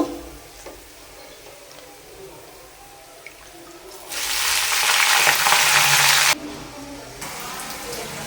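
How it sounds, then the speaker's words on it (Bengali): Onions and dried red chilies fry in a pan, a quiet background sizzle that swells into a loud, bright, hissing burst for about two seconds midway before settling back to a softer steady fry. "এখন আমার পেঁয়াজ ভাজা হয়ে গেছে পেঁয়াজ মরিচ এগুলি ভাজছি শুকনা মরিচ"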